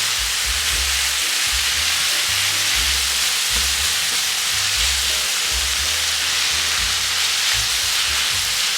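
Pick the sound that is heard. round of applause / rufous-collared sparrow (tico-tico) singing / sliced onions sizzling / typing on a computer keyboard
sliced onions sizzling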